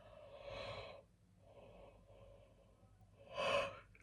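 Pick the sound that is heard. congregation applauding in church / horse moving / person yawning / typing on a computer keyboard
person yawning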